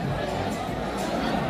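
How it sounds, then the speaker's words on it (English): A crowd waiting in a nightclub queue at night in Benalmadena makes a steady, dense hubbub of overlapping voices and chatter nearby. "we've got some crowd waiting in a queue"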